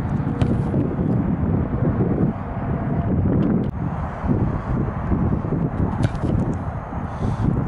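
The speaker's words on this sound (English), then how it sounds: "Left to right wind." Wind gusting across an outdoor football field, a loud rushing buffet on the microphone with low-end roar that rises and dips in uneven surges, no voices over it.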